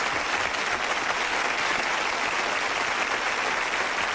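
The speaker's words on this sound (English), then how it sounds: "How about a round of applause for the world's fastest court reporter?" Audience at a Guinness world record presentation applauds the world's fastest court reporter, a continuous, loud and evenly sustained round of clapping with no voices over it.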